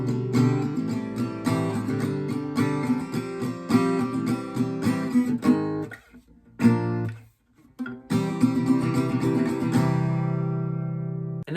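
Acoustic guitar strums the outro chords of a song in a steady down-up pattern on C, ringing loud and close, with a brief pause near the middle before the strumming resumes and the last chord rings out alone.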